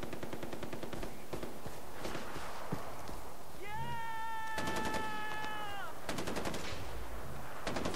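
In the video game Far Cry 4, a big cat gives a single sustained meow of about two seconds, wedged between loud rapid bursts of automatic gunfire.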